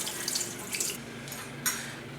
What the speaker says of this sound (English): Pour your brine out really carefully. You don't want to lose any of your pork.